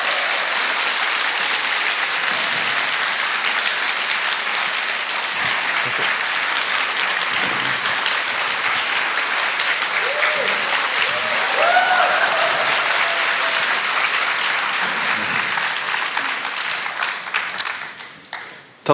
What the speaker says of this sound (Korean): 랜든 윌리엄스 목사님 나오실 때 큰 박수 부탁드릴게요.